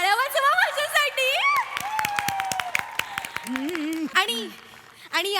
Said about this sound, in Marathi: टाळ्या वाजवा माझ्यासाठी